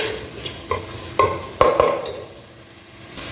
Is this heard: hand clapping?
no